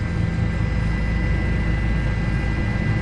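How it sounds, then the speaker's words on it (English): A Cessna light airplane flies overhead during a Miami police chase, its engine a steady, loud, broadband drone that holds without change for three seconds. "Cessna just turned away from you."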